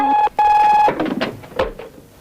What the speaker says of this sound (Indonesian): Ada telepon, Pak.